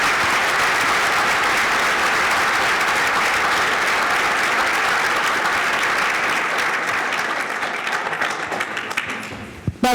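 A crowd at a university athletics Hall of Fame ceremony honoring a football figure bursts into loud, sustained applause that thins into scattered claps over its last few seconds.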